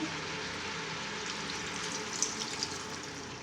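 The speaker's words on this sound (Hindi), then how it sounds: "अब इसमें 1 कप पानी ऐड करके" A cup of water poured into simmering mutton and cauliflower curry in a pan, a steady close hiss and sizzle with faint bubbling and small splashes, no talking.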